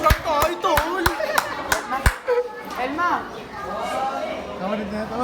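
Scattered hand claps at a school honors ceremony, several sharp close claps at the start giving way to voices and chatter, with little clapping after.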